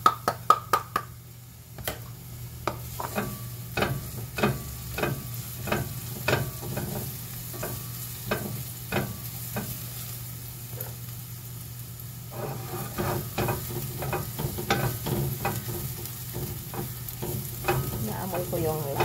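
Garlic sizzles steadily in a frying pan while a utensil stirs and knocks against it in a quick, irregular rhythm, close up and fairly quiet.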